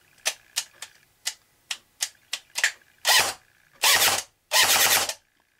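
AGM STEN Mk II airsoft gearbox running on a battery, first firing a string of short mechanical clacks one by one, then three longer whirring bursts of rapid cycling, close and loud with no talking.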